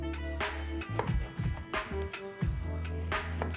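A knife saws through challah bread into thick slices, with several soft crunchy cuts in an irregular rhythm beneath prominent background music.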